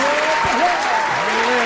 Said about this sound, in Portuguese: cadê aquela salva de palmas para esse cantor romântico?